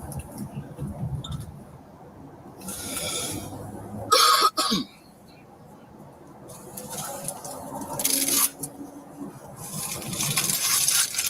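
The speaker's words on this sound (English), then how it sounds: "Please forgive my cough." A few short coughs break through a quiet, noisy room, with a sharp burst near the middle and scattered rustling around it.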